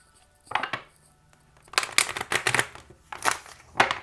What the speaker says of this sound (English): Shuffling and cutting the deck.